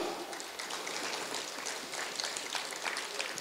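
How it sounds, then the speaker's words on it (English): A crowd at an AAPI awards event applauds for the board of trustees, dense steady clapping heard from within the room with no voices over it. "big round of applause for all of us, right?"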